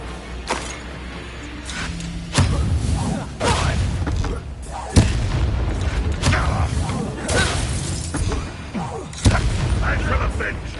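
Confringo fire-spell blasts from Hogwarts Legacy burst out as a string of loud, booming explosions at irregular intervals, each with a sharp thud and a rushing tail, over ongoing game sound with voices.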